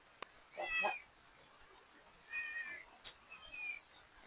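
A cat near a backyard fishing pond meows three times in short, fairly close calls, with quiet pauses between each one.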